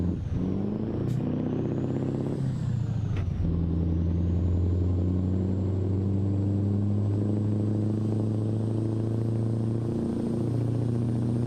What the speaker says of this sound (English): love the sound of that engine. I love any open pipe, any truck, any car.